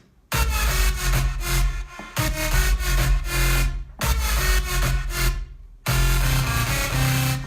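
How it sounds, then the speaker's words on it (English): Synth track reduced to its low-bass layer, driving a steady rhythm in loud repeated bars with short drops between sections, heavy at the bottom with sparse upper texture, close and with no voices. "if you listen to the track with only the low bass, it'll sound like this."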